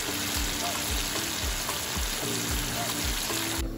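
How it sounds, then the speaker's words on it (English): Cassava leaf dish frying in a pan, a steady dense sizzle close by with faint low knocks underneath. "Yeah, I just fry it"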